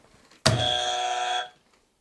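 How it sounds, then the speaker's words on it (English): A quiz game buzzer goes off once, a loud steady harmonic drone lasting about a second with an abrupt start and stop, heard alone with no talk over it. "This is a buzzer, so Hoops, you can go."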